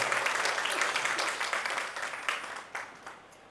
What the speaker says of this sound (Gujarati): આપણા વક્તા શ્રી હિતેશભાઈને પણ ખૂબ જોરદાર તાળીઓથી આપણું સન્માન કરીએ